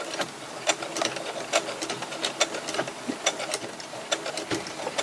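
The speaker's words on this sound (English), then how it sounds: "I'm just going to back stitch a little bit." Sewing machine back-stitching through many thick layers of an oven mitt, a close, steady mechanical whir with rapid rhythmic needle clatter running throughout.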